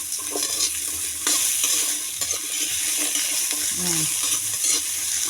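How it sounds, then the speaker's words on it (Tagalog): Squash and long beans sautéing in a home pan, a steady sizzle with scraping stirs and a few light utensil knocks, while a voice speaks briefly over the cooking. "gisa-gisa lang ng konti"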